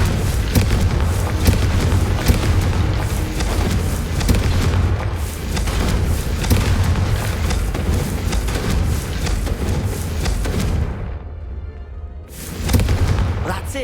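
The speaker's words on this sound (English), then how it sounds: "I think you'll find that a Confringo cast travels a bit farther than that of a spell like Incendio" Confringo, a fiery blast spell from Hogwarts Legacy, cast amid a dense rumbling, crackling wash of sound with speech over it and a sharp drop-out near the end before a final burst.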